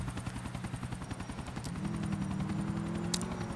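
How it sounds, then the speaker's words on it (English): A helicopter in the video game GTA IV, a steady, loud rotor thrum with rhythmic low chopping that holds throughout, rising slightly in the second half, with no talk over it. "The helicopter is leaving"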